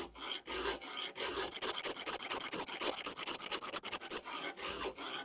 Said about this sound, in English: First thing I want to do is file all the teeth away.